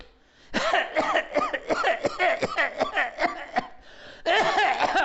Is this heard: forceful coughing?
yes